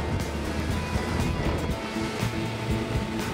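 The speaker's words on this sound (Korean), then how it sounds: "예상 외로 파도가 높다." High winter sea waves surge around a fishing boat off Buan, giving a steady, loud wash of churning water with wind rumble that carries without a break.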